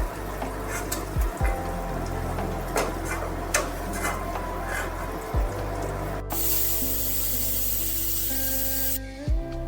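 Mutton fat rendered down in a pot for a green jackfruit curry sizzles and sprays steadily, with a brief louder hiss burst partway through and occasional clinks of utensils; no talking.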